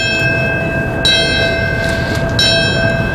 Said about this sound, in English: The service ended with the ceremonial ringing of a bell.